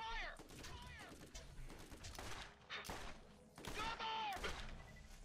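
Gunfire in the video game Borderlands comes as rapid bursts and crashing shots, with a few whistling, sweeping effects over the top, continuing steadily and loudly through the whole stretch.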